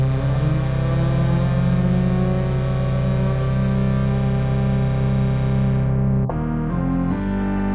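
Layered synthesizer notes, stacked in octaves and heavily distorted, play as one loud sustained chord as the tuning control detunes them, then break into short, choppy stabs near the end.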